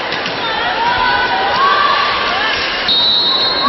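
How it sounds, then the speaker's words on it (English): Crowd at a volleyball bronze medal match between Army and Air Force cheering with rising excitement, a dense, loud roar with shrill shouts and whistling, while a commentator talks over the noise. "crowd beginning to bristle with excitement"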